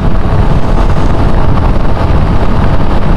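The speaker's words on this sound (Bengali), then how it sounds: "বাইক ভালো স্পিডেই টানা যাচ্ছে, নো প্রবলেম অ্যাট অল" Motorbike riding fast on a Chattogram–Cox's Bazar highway near Chakaria at dawn, a loud roaring rush of wind buffeting the microphone over a low engine drone, continuous and close, with no speech.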